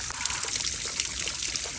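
Floodwater trickles and drains through rock laid in a flooded yard: a steady, close, hissing wash of running water with no talking.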